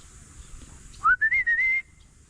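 Someone whistles a short, rising call to summon pigeons in a few quick bursts, loud and close, against a quiet outdoor background.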